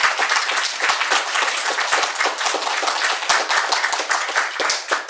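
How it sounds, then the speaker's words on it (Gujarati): A seated audience at a Gujarati literary lecture event applauds two speakers, with steady, dense clapping from many hands that stays loud and close for several seconds and carries no talk over it. "બંને વક્તાઓનું સન્માનપૂર્વક ખૂબ તાળીથી અભિવાદન કરીશું"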